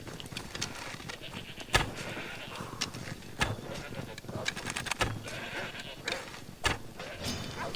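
Goats bleat repeatedly at moderate distance in a video game, their calls scattered through busy outdoor game ambience with footsteps and other activity.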